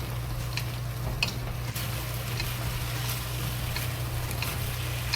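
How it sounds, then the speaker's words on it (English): Guobao Rou, Harbin-style fried pork, frying slowly in a sticky sugar sauce in a wok gives off a soft, steady sizzle with a few light clicks over a constant low hum. "Just keep slowly fry."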